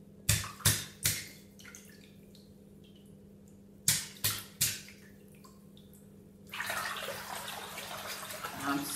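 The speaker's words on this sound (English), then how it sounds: "I'm swirling the water around." Water splashes and sloshes in a shallow bowl, several sharp hand splashes in two quick bursts, then a steady swishing swirl of water stirred by hand near the microphone.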